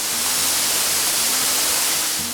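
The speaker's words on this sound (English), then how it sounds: "standing directly beneath one of the most powerful waterfalls on the planet" Loud, continuous roar of Niagara Falls heard from directly beneath, a dense wall of rushing water filling the whole clip with no pauses.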